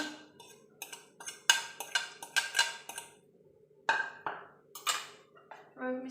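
Grated potato, onion, carrot and capsicum are tipped into a bowl, with a run of sharp utensil clinks and taps against the bowl in an irregular rhythm, close and fairly clear.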